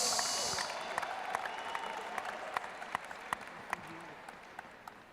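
An audience applauds at an indoor church leadership talk, a loud burst of clapping that fades into scattered, sparse claps, with no talk over it.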